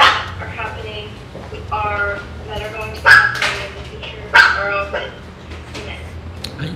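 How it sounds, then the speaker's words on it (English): A dog barks in a series of sharp, loud yaps mixed with yips and whimpering whines, spread unevenly across several seconds with close, indoor clarity and faint background noise. "That dog is very expressive."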